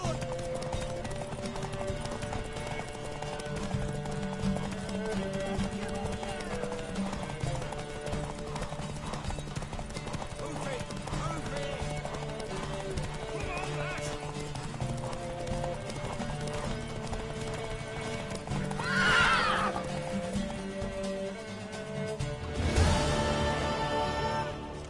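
Sustained galloping hooves of a horse in The Witcher 3 pound on under a musical score, with brief louder bursts near the end that may be a whinny or rushing wind.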